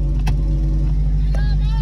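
A 1997 Nissan engine idling loudly up close, a heavy steady low rumble filling the short clip, with voices briefly over it.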